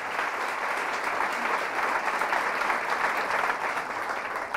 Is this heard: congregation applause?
yes